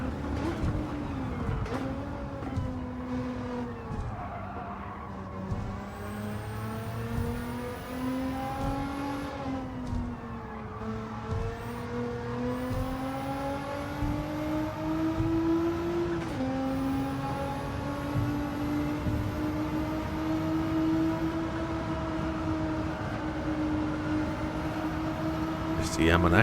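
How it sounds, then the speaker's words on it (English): A GT-R race car in Gran Turismo 7 screams at high speed near 190 mph in the Tokyo 600 race, its engine whine sustained and slowly shifting pitch through long pulls, with a voice talking over it throughout. "Car's giving it everything, so pushing the 190 mile an hour"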